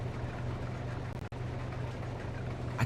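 Tractor engine in Farming Simulator 22 running with a steady low drone, briefly dropping out for a split second midway as the sound glitches, then resuming at the same level.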